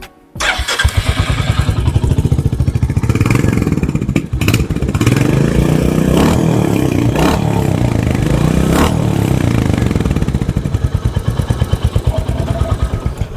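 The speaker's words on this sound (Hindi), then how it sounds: "वो है इसका एग्जॉस्ट नोट सुनना।" Royal Enfield Hunter 350 motorcycle, a 2025 model, starting up and settling into a steady thumping single-cylinder idle with a few blips of revving, loud and close, with no talking.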